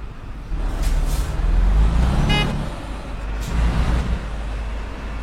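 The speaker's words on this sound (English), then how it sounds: "That bibbing you could hear was from the car below, telling me to get a move on." A single short car horn beep sounds over steady traffic rumble and passing engine noise outdoors.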